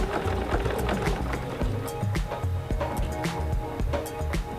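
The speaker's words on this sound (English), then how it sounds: "sew up to that line, again watching the guiding point on your presser foot" A sewing machine runs stitching binding onto a quilt, a close, busy mechanical whir with rapid rhythmic needle clicks, continuous with slight pauses and speed changes.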